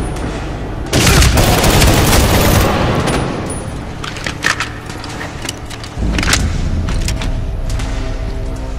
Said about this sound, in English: Hit me with that shotgun.